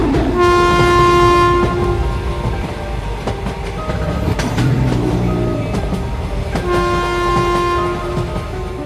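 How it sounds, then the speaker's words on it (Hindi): A train sounds its horn in long steady blasts, then rumbles and clanks as it starts moving, with a second horn blast near the end over the rolling rail noise. "तभी ट्रेन शुरू हो जाती है।"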